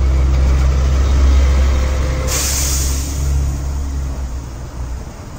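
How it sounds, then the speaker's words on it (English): A school bus engine rumbles low and steady, and midway a sharp hiss of air brakes bursts out, then fades as the engine drones on. "You go to school in a school bus."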